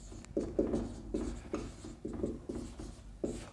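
Chalk or marker writing trigonometric formulas on a lecture board, a series of short scratchy strokes in irregular bursts, close and fairly loud against a quiet room.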